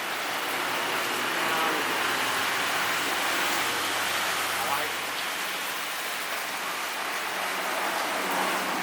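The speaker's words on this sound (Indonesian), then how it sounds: "alhamdulillah hujan." Steady rain falls in a continuous broadband hiss, loud and close throughout, with no pauses or individual drops standing out.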